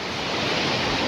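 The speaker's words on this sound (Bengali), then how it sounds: "বেশ জলটা এখানে এভাবে পড়ছে" Water pouring down from Mukutmanipur dam, a steady dense rushing roar close by with no break, nobody speaking over it.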